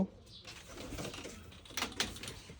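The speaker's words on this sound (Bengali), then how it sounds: "আজকে আপনাদেরকে আমার কবুতরের ফার্মের ভিতরে নিয়ে যাব।" Pigeons cooing inside an indoor pigeon farm, soft nearby coos and fluttery rustles over a quiet room hum, with faint low murmuring.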